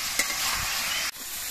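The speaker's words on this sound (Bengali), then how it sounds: "এবার মোচাগুলোকে বেশ কিছুক্ষণ সময় কষিয়ে নিতে হবে আর অনবরত নাড়তে লাগবে" Banana flower fries in a pan while being stirred, giving a dense, steady sizzle. A spatula scrape sounds early on and a brief dip follows near the end, with no talking.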